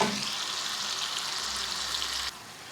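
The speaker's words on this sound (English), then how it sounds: "So that's been sizzling away for about 1 to 2 minutes now" Tomatoes frying in hot oil for an Indian base gravy, a steady close, bright sizzle that holds evenly for over two seconds, then drops abruptly to a quieter crackle.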